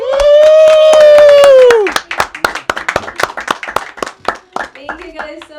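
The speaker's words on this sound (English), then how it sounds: "I didn't expect the applause" Audience applause after a song at a concert: a sung note at the start gives way to dense, steady clapping from a crowd that carries on to the end with a few whoops.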